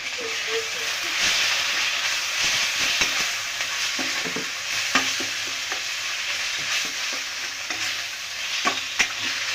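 Ginger garlic paste sautés in a pan for a curd-based ladies finger gravy, giving a steady, loud hissing sizzle throughout, broken by occasional sharp clicks of a stirring spoon.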